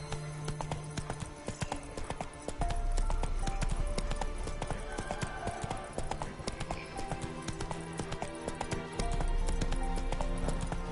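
Hooves of the horse Roach clip-clopping steadily in The Witcher 3, a brisk rhythmic patter over a low ambient game background, moderately faint.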